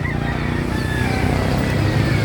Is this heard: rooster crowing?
yes